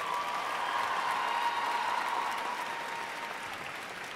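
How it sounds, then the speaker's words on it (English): High school graduates at a graduation ceremony applaud steadily, a dense, even wash of clapping from a large crowd throughout. "So give yourselves a round of applause"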